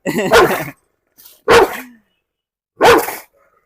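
A dog barks three separate times at close range, each bark loud and sharp with pauses between, plus a short faint yelp, at a home in Perumbavoor that keeps several dogs, including a German Shepherd.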